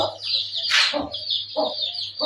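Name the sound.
chickens clucking at feeding time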